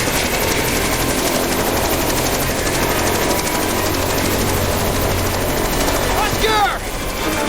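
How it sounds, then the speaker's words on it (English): Loud, continuous rotor chop and engine whine of a helicopter in Jurassic Park: The Game, steady throughout, with a shout breaking in near the end. "Land the chopper right now!"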